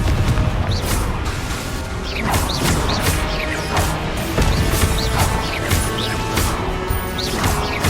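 Repeated Confringo fire-blast spells in Hogwarts Legacy on PS4, a rapid string of loud crashing booms and impacts, each burst followed by crackling debris, landing close together in a continuous barrage.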